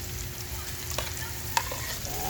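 Onion goes into a frying pan already holding ginger for a fish dish, setting off a steady, moderately loud sizzle with a few clinks of a utensil stirring, close and without speech.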